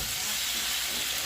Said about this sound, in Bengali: মাছগুলো ঢেলে দিলাম, একটু নেড়ে ছেড়ে দিব